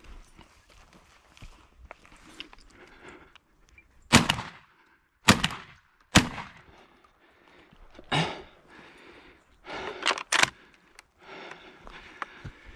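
Several sharp, loud shotgun shots ring out outdoors at irregular intervals during a partridge, rabbit and thrush hunt in La Mancha, a few close together, with a faint murmur of background activity between them.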